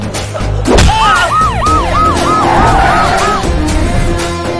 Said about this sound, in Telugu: నెక్స్ట్ 60 minutes సిటీ అంతా సైరన్ తో మోతం మోగిపోద్ది